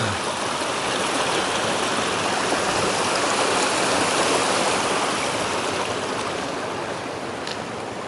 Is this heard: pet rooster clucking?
no